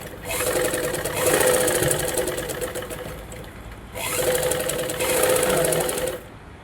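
A sewing machine stitches fabric, likely for hooks and buttonholes, in two running bursts of rapid mechanical chatter separated by a short pause, fairly close and steady.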